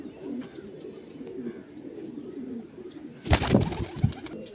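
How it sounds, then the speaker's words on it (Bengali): Soft, repeated cooing of racing pigeons close by, low throaty calls in a loose rhythm, followed by a brief burst of rustling or fluttering near the end. "সব আমার ম্যাচ খেলা পায়রা এগুলো"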